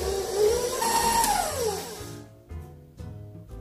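An electric mixer whirs through lemon poppy seed bundt cake batter, a loud rising and falling motor tone for about two seconds before cutting off, followed by quieter clunks.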